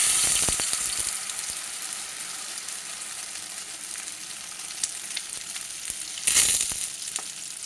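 Egg dosa batter hits an oiled griddle over medium flame with a loud initial hiss that settles into a steady sizzle, then flares again briefly, with light scraping and no voices.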